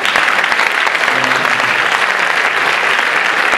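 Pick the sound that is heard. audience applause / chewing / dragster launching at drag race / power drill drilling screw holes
audience applause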